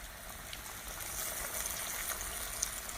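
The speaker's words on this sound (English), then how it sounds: "Now let's carefully take this and place it into the fry oil" A chicken-fried chile relleno frying in hot oil, giving a steady, close crackling sizzle with bright hiss and scattered pops throughout.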